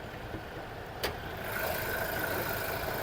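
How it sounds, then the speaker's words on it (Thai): A 2017 Toyota Innova Crysta 2.8 diesel engine idles steadily with a low, even rumble, close by, with a brief click near the start. "ตอนนี้รถสตาร์ทเครื่องอยู่นะ"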